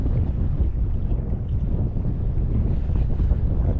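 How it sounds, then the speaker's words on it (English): Wind of about 7 to 8 knots roars over a small boat on Moreton Bay, a constant loud buffeting rumble with water wash beneath and no voices. "not the greatest wind. It's still blowing 7 or 8 knots."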